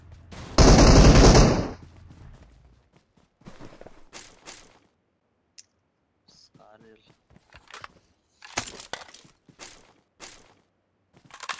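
Gunfire in the mobile battle-royale game BGMI: one loud, sustained automatic burst near the start, followed by scattered quieter shots and movement sounds, with voices talking throughout.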